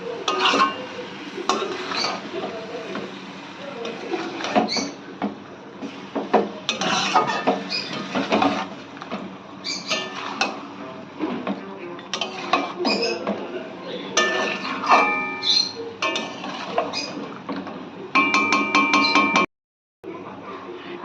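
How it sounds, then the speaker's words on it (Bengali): A metal spoon stirs chicken pieces with spices in a pot for Bengali chicken korma, giving steady scraping and frequent sharp clinks against the pot, close and fairly loud, with no talking. "এবার ভালো করে মশলার সঙ্গে মাংসটাকে মিশিয়ে নিতে হবে"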